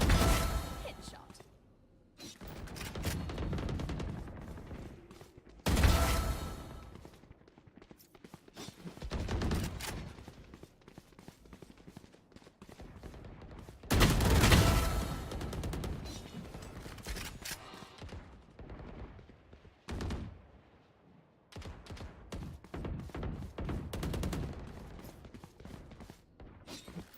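Gunfire from a Valorant esports match, heard as repeated bursts of shots and loud crowd-like swells that come and go, mixed with commentary voices throughout.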